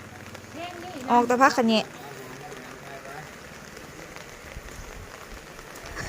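Steady rain patters down on a rainy day at a rural home, a soft continuous hiss running through the whole stretch, with a short burst of talk near the start.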